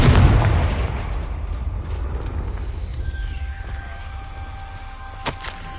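A Confringo blasting spell from Hogwarts Legacy erupts in a single loud, booming explosion that decays into a long rumbling tail, with a faint ringing tone and a brief sharp crack near the end.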